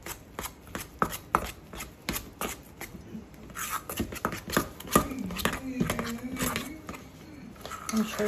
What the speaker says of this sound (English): You're just going to mix it all together so it's fully incorporated.